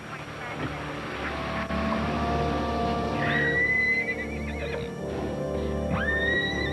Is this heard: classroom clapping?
no